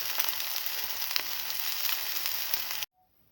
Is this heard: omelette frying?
yes